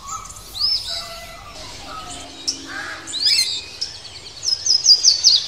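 Blue jay, a songbird of the crow family, calling outdoors in a series of scattered chirps and squawky notes that grow busier toward the end, over a steady background hiss.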